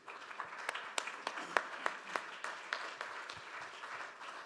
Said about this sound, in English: A warm round of applause for our panel.